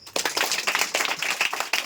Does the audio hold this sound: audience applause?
yes